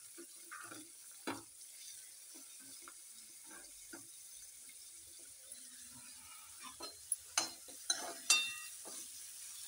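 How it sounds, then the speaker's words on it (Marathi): Onion fries with spices in a pan while being stirred, a faint sizzle broken by soft scraping stir strokes and a few sharper clinks near the end, heard quietly and alone. "हा, छान आवाज येतो. कांदा टाकून घेऊया."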